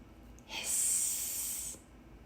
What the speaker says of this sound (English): The tea kettle whistled.